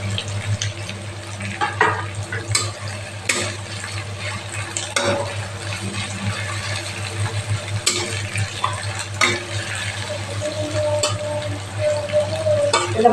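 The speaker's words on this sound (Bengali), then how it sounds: "তো পেঁয়াজটা একটু ভাজা হয়ে আসে" Chopped onions and green chili sizzle steadily in hot oil in a pan, with occasional scraping and clattering from stirring throughout, close up and with no talking.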